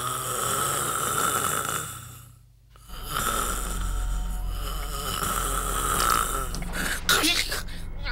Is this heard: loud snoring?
yes